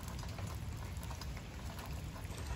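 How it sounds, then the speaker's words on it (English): Steady rain pouring during a cold winter thunderstorm in Atlanta, a continuous dense hiss of drops hitting surfaces, fairly close and uniform throughout with no voices. "It's cold and wet and rainy. And we're having a thunderstorm"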